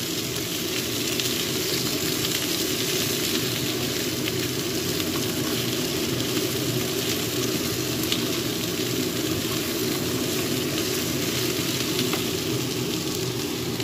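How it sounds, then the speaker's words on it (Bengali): Mixed vegetables frying together in a small amount of oil give a steady, dense sizzle that hisses evenly and continuously throughout, with no voices. "আমি একসাথে সব সবজি ভেজে নিই অল্প তেলে"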